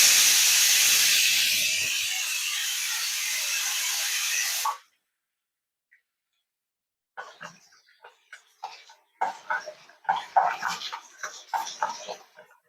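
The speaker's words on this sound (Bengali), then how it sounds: "আলু ভাজাটা একদম কচকচে করে ভাজা হচ্ছে" Potatoes frying crisply in hot oil in a Bengali home kitchen, a loud steady hiss for several seconds that cuts off abruptly, followed after a pause by scattered crackles and pops.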